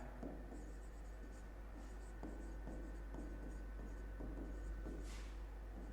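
Pen or marker writing during a biology lesson, soft repeated scratching strokes in short uneven bursts over a low steady room hum, faint and close, no speech.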